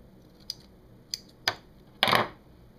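Scissors snipping through the excess ribbing strip of a t-shirt near the shoulder edge: a few close, crisp snips spaced apart, ending in a longer, louder cut.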